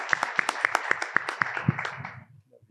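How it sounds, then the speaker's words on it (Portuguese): Audience at a poetry soirée applauds Vitor the harpist: about ten sharp, evenly spaced claps from a small group ring out nearby, then fade and stop. "Vamos aplaudir o Vitor, né, nesse momento"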